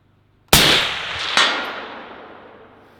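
A suppressed PSA PA10 Gen 3 .308 rifle fired outdoors with a target at 200 yards: one sharp, loud report followed about a second later by a fainter crack, both trailing off in a decaying echo.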